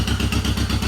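A 1952 John Deere MT tractor engine runs close by after sitting since last fall, giving a rhythmic, loping two-cylinder putter in a short, steady burst with no speech.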